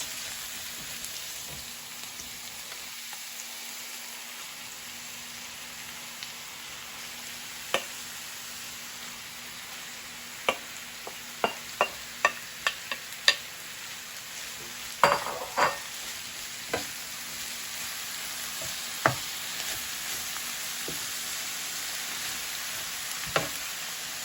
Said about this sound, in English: Then now you add in your cabbage.